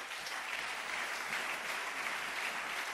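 Church congregation applauding together, a steady dense wash of clapping that holds evenly throughout with no talk over it.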